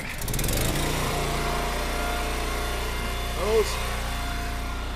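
Small gas engine on an Eastonmade Ultra wood splitter idling steadily and close, a constant low drone throughout, with a brief voice near the start and a short hydraulic whine or squeal near the end.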